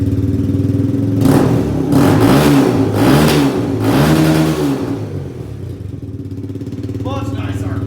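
A Kawasaki Z125 motorcycle fitted with an anodized aftermarket exhaust revs loudly up close, several rising and falling throttle blips in a row, then settles back to a steady idle.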